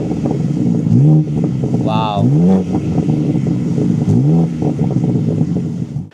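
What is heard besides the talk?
BMW G82 M4 exhaust revving with valves open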